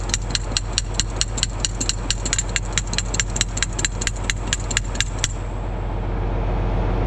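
Rapid, evenly spaced metallic taps ring out about four times a second over a steady low engine-like hum, then stop while the hum continues.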